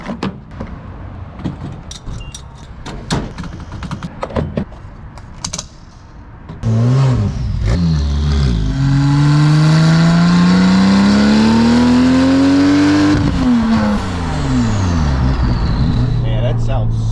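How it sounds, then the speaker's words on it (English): A straight-piped Porsche 911 Turbo starts up and revs, its exhaust roaring loud and close, rising to a long sustained high-rev howl before dropping back to a rumbling idle, after some clicking and handling noises at the start. "You ever think your exhaust might be just a touch too loud?"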